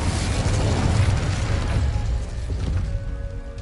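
Incendio fire spell burst in a Harry Potter video game: a single loud whooshing blast with low rumble that fades over a few seconds.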